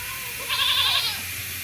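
A goat bleating once in a drawn-out, wavering cry, near and clear over faint outdoor background.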